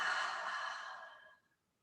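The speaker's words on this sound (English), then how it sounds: "take a deep breath in and out" A single deep exhale of breath, close and clear, as a slow airy sigh that fades out over about a second and a half, with no talking.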